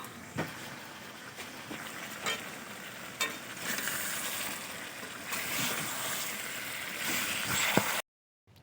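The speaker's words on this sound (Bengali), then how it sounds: "এই যে উলের টুকরোগুলো মাংস কষার মধ্যে দিলাম" Chunks of elephant foot yam tipped into meat being sautéed in a pan, giving a steady broadband sizzle with a few sharp clattering knocks, close and fairly loud, then cutting off abruptly near the end.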